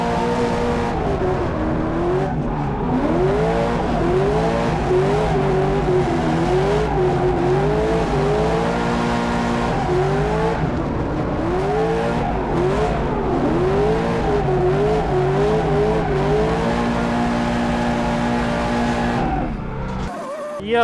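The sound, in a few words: car engine and tires during drift practice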